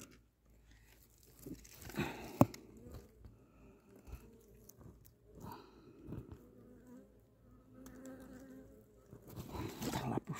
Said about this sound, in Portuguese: Olha a abelhinha aí, gente, olha.